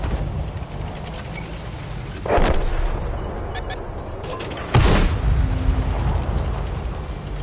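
Tank cannon fire in World of Tanks on console, two heavy booming shots a couple of seconds apart over a constant engine rumble and battle noise, loud and near.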